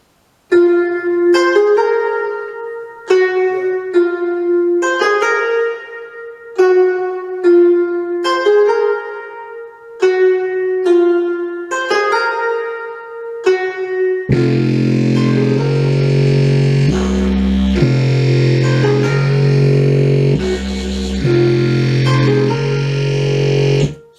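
A synth melody plays in short phrases, then heavy bass and punchy drums crash in, turning it into a dense, distorted, grungy trap beat with an oriental sound.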